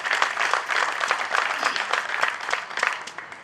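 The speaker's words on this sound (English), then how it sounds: "Let's give him a round of applause," Round of applause at a prison inmate graduation ceremony at a headquarters in Banjul, dense, close clapping from many hands with distinct sharp claps, continuing steadily without speech.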